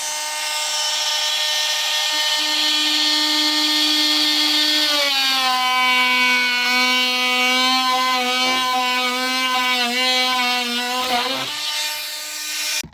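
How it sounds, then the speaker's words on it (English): Oscillating multi-tool cutting wood on a deck, a loud buzzing whine that starts steady, then rises and wavers in pitch as the blade bites, with a brief dip near the end before cutting out. "Let's just go multi-tool."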